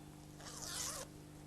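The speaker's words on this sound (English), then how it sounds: "Then we take the scissors" Scissors snip through netting for a Christmas flower arrangement, a single close, crisp cutting rasp lasting under a second against a quiet room with a faint background hum.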